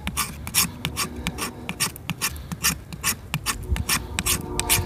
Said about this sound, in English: And we can also scrape it.